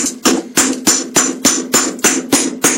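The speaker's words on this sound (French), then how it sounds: "n'hésitez pas à frapper, de toute façon si votre soudure lâche au moment du piquetage avec le marteau" A hammer chips slag off an arc weld in nine sharp, evenly spaced metallic strikes, each with a bright ringing tail, loud and close with no talk.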